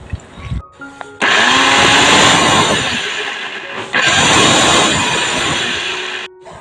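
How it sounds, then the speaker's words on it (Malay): A blender grinds dried shrimp with other ingredients and added water, running loud and steady for about five seconds with a brief dip partway through, then stopping. "Dan jangan lupa masukkan air bagi memudahkan kita mengisar"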